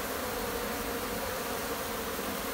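Dense, steady buzzing of many bees at a nest built inside old tyres, a continuous close hum filling the whole stretch without pause or voices.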